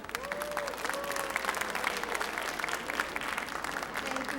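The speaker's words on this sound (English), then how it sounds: "Please, can we have good amount of claps for this AV coming up?" Audience applause at a dance recital, a steady moderate round of clapping from a crowd filling the room, with faint tones and voices beneath.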